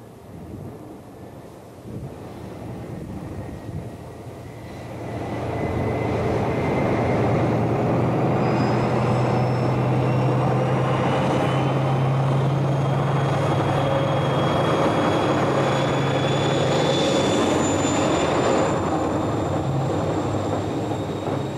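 An Edinburgh-bound HST diverted near Exeter in winter roars past. The loud, sustained rumble builds after a few seconds and holds steady, with a high engine whine and wind noise over it.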